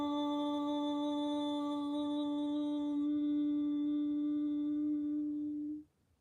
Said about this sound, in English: I just would like us to chant Om